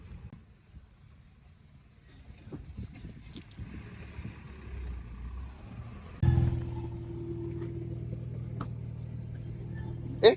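A Nissan Fairlady 350Z engine fires up partway through after a quiet stretch of faint background noise, then settles into a steady, droning idle that ends with a brief louder blip.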